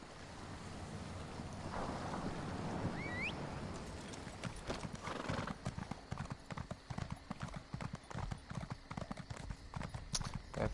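Hooves of a steed in The Elder Scrolls Online clip-clop in a steady trotting rhythm, faint and under a windy wash, with a brief chirp early on.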